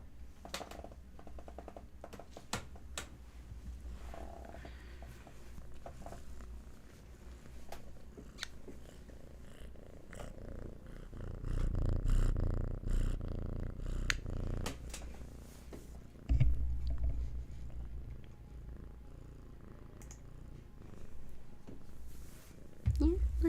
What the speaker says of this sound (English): her purring is something